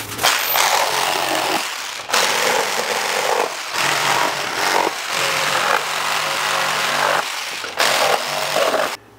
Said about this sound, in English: I've got a Sawzall with a metal blade. I'm gonna just try to cut the nail heads right off.